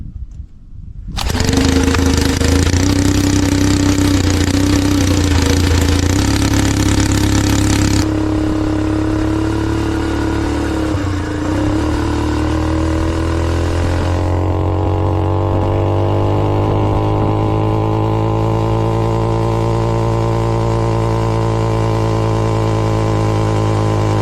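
A motorized bicycle's small engine starts and runs steadily on a test ride, a loud continuous buzzing drone with a slight change in pitch partway through, near and alone without talk.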